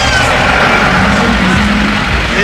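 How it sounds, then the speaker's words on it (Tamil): Heavy traffic jam with trucks and cars in Kodaikanal, a loud continuous rumble of idling engines and road noise, with a faint hiss and tonal hum from nearby vehicles. "இங்கே டிராஃபிக்கில் வந்து மாட்டின்னு இருக்கோம் பாருங்கள்"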